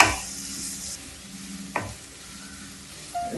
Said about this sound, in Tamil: ஸோ ஆனியனை நல்லா சாட்டே பண்ணிக்கோங்க